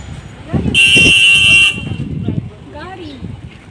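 A state transport bus sounds a loud sustained horn for about a second on a roadside near a stop, with people talking nearby before and after.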